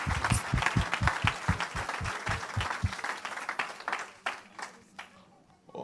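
A church congregation claps rhythmically in praise of the Lord, loud steady beats over cheering and voices, then dissolves into looser applause and crowd noise as the clapping fades.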